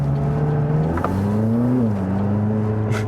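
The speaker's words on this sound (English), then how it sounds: "the sound it creates when you really hammer the throttle" A McLaren sports car engine under hammered throttle, a loud, close, steady mechanical drone with a rising pitch and a brief shift around the middle.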